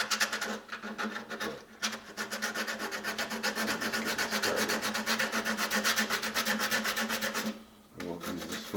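Rough sandpaper is rubbed by hand over the wood of a Harmony Sovereign acoustic-electric guitar under restoration, making a steady, loud rasping scrape in quick back-and-forth strokes that continue almost unbroken, with brief pauses near the start and end.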